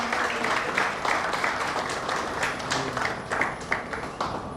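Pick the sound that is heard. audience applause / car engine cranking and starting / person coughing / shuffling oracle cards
audience applause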